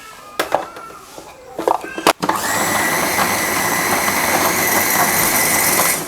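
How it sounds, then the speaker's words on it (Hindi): Blender grinding chicken and onion for a burger patty, starting after a few clicks and taps with a loud, steady motor whine that holds without pause to the end. "अब प्याज और चिकन को हम अच्छे से ब्लेंड कर"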